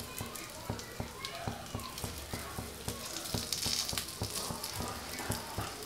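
Pieces of food fry in a pan over a medium flame until both sides are crisp. A quiet, continuous sizzle is broken by regular soft clicks and taps from the pan.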